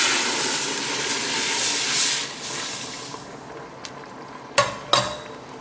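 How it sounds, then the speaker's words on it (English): A rushing, hissing pour of broth into a borscht pot fills the first few seconds, then fades, followed by a couple of sharp clanks of a pot or utensil. "So, in goes our broth."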